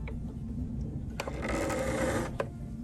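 A sewing machine stitches the pocket of a fabric origami wallet, a steady mechanical whirr that swells louder for about a second in the middle, with a couple of sharp clicks.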